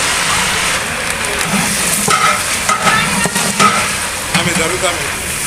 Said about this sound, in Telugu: ఆయిలు అలాగే పచ్చిమిర్చిని అయితే వేయించుకోవాలి